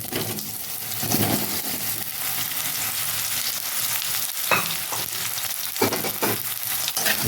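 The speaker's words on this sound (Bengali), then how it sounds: "দিয়ে জাস্ট একটু এইভাবে ঝিঙেটা একটু ভেজে নেবে যাতে কাঁচা গন্ধটা চলে যায়" Chopped ridge gourd fries in a pan with a loud, steady sizzle and hiss, and a few sharp metallic clinks and scrapes from stirring come toward the end. There is no talking.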